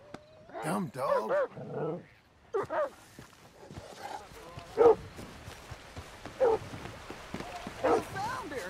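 A dog in Red Dead Redemption 2 barks and growls in short bursts between spoken lines, with game ambience underneath; a man calls to it in frustration.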